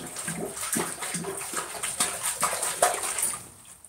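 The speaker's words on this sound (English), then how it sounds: "then we're quenching in water." Hot carbon steel plunged into water after heating in a coal forge, giving a run of bubbling, sputtering hisses and gurgles at close range, fading away at the end.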